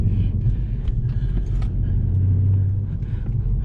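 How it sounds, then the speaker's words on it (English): Droning exhaust of a manual-transmission car with a muffler-delete tone, heard from inside the cabin as a steady, loud low rumble that holds throughout. "if you probably notice a tone now, it sounds like a muffler delete"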